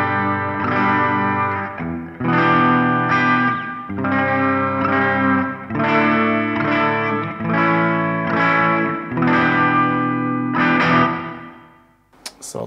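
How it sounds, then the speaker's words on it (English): Clean electric guitar played through a Roland JC-120 amp set to its clean sound, strummed chords ringing out in steady bursts with a shimmering chorus-like sheen, loud and close, no talking, ending in a brief pause. "my amp setting is set to JC120 Roland clean sound"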